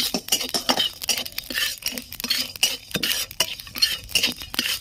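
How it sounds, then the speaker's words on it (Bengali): Whole spices for biryani masala, including cinnamon and white cardamom, dry-roasting in a dry kadai, heard as a utensil repeatedly scraping and stirring with light metallic clinks and rattling, close and steady for several seconds without talk. "এবার এগুলো আমি সব ভেজে নেব"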